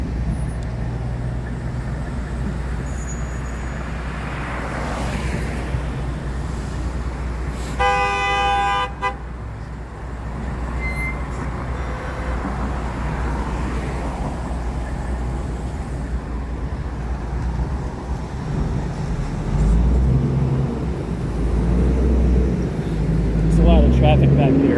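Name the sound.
suburban road traffic with car horns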